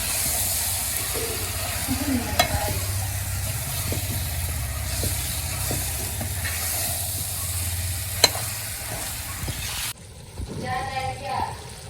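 Jackfruit and ripe mango mixture stirred forcefully in a pan, a steady scraping churn with low rumbling texture and occasional sharp knocks, ending abruptly as a softer, different background takes over.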